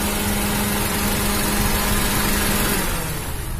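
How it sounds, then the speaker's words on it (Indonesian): A car engine idles loudly and steadily nearby with a constant low hum, then begins to wind down near the end as it is switched off, with no talking. "Bisa tolong mati dulu mesinnya mas."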